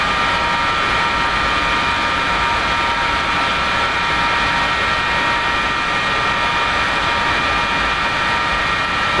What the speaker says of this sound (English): now we're going to start the left engine. Connect external air to the left engine